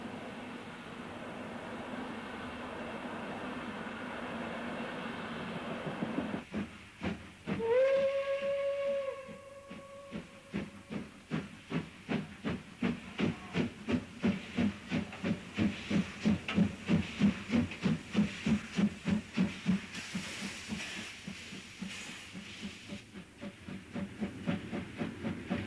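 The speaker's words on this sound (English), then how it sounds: "a modern rail car pulls out in front of an older Pacific Hall passenger train" A Pacific steam passenger locomotive in Eastern Europe pulls away from a station with a long whistle, then rhythmic chuffs grow louder and steadier, hissing steam throughout.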